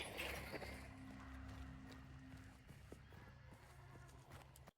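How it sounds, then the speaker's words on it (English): Horse hooves clip-clop from an emulated video game, faint and slightly distant, with a low mechanical hum and soft background noise beneath the rhythmic steps. "You hear the horse."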